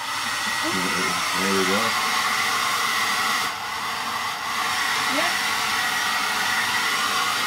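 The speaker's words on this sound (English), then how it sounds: "Plug the hairdryer in." A hair dryer powered by an ALLPOWERS S2000 Pro power bank, drawing about 1,728 watts, blows with a steady, loud whooshing roar that fills the whole clip, briefly dipping once, while a voice speaks a few words early on.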